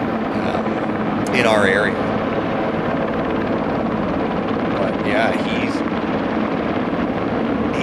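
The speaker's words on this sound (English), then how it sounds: "we will get to see quite a few of the helicopters they used" Firefighting helicopters thud steadily overhead with a loud, constant rotor drone, while someone talks briefly over the noise.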